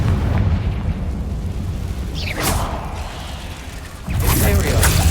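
Confringo and Bombarda spell blasts in the video game Hogwarts Legacy, loud booming bursts with crackling tails over a dense rumbling game background, a couple of sharp swooshes in the middle.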